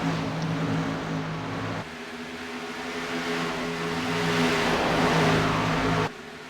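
NASCAR Xfinity Series stock cars race at Charlotte, their engines a loud continuous drone that swells and dips in level with abrupt changes in tone.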